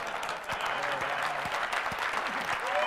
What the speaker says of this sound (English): that way more applause than I was expecting